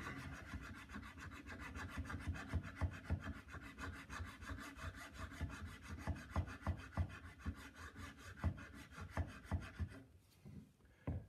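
A round tool filing a flat spot into carving wax for a hinged bangle, with fast, even rasping strokes repeated close up and stopping near the end, no voices.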